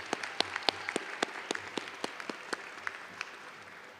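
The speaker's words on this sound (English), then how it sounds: "Let's give them a round of applause for being here today," Sparse, scattered handclaps sound from a small group at a high school commencement ceremony, each clap distinct and fairly faint against a quiet room.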